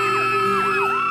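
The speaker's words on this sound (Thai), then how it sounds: "ขอเสียงกรี๊ดให้กับคุณหนุ่มหน่อยครับ" A studio audience at a Thai TV show screams and cheers, a sustained high wash of yells and whoops over a steady tonal music bed, loud and continuous for about a second.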